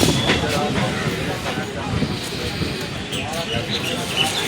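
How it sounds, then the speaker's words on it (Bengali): A train pulls away from the platform at Rajchandrapur station, a steady rumble with rail clatter and hiss, with people talking over it. "ট্রেনটা আমাদের চলে যাচ্ছে"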